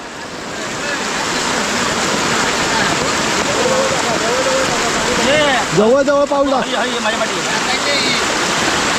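Floodwater rushes across a road in Ratnagiri during a major flood, a loud, unbroken roar of flowing water close by, with someone talking over it.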